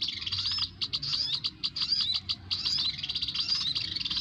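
Recorded bird calls played as a trapping lure for sogon birds in a garden, a continuous stream of bright, rapid chirps and tweets, fairly loud and close over a low background hum.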